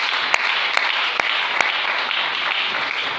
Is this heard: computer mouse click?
no